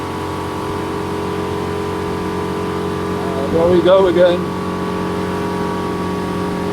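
Steady hum of a Sea Ray SDX 250 outboard-powered boat cruising near 70 km/h, with a brief swell in engine pitch as the drive is trimmed, running continuously under a voice.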